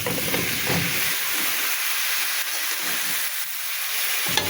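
Cut bottle gourd dropped into hot spiced oil in a pan sizzles and hisses loudly and steadily throughout, a dense broadband crackle with no voices.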